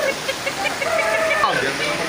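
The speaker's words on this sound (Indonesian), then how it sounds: "Bagaimana hujan badai ya." Heavy rain storm hissing and pouring steadily outdoors, with people talking over the downpour.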